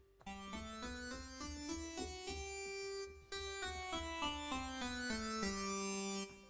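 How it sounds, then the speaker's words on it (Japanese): A synth lead voice on a Yamaha Electone STAGEA organ with the Phaser 3 preset effect plays a steady, bright melody of sustained notes in a continuous line, clear and alone with a brief gap midway. "これ、まあシンセリードの例なんですけども"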